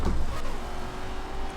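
Car engine in Forza Horizon 4 droning steadily at a high pitch like a racing car, loud and close, with no speech over it.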